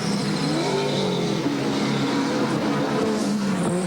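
A touring race car at Bathurst in 1992 howls through Repco corner on the way to the cutting, its engine note rising and falling continuously over a loud, unbroken roar with a faint tire squeal.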